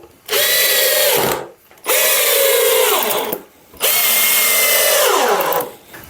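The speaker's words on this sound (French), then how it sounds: "Allez, on va visser ça." A power drill drives screws into pallet wood for a stool, three loud sustained whirring bursts of about a second and a half each, separated by short pauses, close up with no talk.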